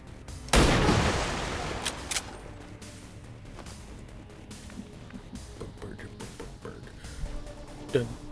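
Piercing shot gunfire in the XCOM 2 video game, a single loud sudden blast followed by a long decaying rumble, then scattered smaller impacts and crackles as cover is destroyed.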